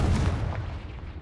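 Confringo spell blast in Hogwarts Legacy, a loud booming explosive burst with a heavy low rumble that fades over about a second.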